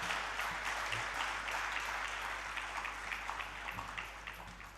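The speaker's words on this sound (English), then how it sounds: "Please give them another round of applause." Audience applause at the Nigeria Digital Economy Summit 2019, a steady wash of clapping from a conference crowd that holds for several seconds and fades slightly toward the end.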